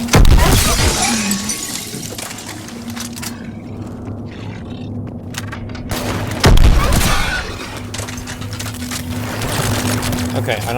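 A gun fires in a video game in a loud, crackling burst that cuts off partway through, then a second sharp blast follows. A steady low hum sits underneath, and game sounds and talk come and go.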